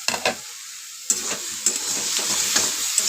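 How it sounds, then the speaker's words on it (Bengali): Food stir-fried on low to medium heat, a soft steady sizzle broken by several distinct spatula scrapes against the pan, close and without speech. "এবার এটা 5 মিনিট কষাতে থাকবো, লো টু মিডিয়ামে এটা আমি কষাতে থাকবো"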